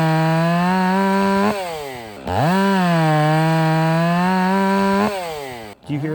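A chainsaw engine roars at high revs, dipping briefly twice and surging back to a loud, steady whine.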